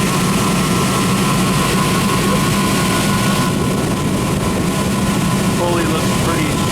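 Motor of a Rheem 8-ton AC unit running on a call, a loud steady low drone and hum with a faint tonal whine, continuous throughout with speech present.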